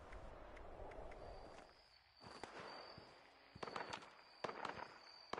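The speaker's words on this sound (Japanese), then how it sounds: "銃声？" Distant gunshots in the post-apocalyptic video game Fallout 76, a few faint scattered cracks and pops at irregular intervals over a quiet outdoor backdrop of insect chirping.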